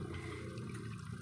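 A Samsung automatic washing machine drains and leaks water, giving a steady, close rushing and splashing wash of water that runs without a break.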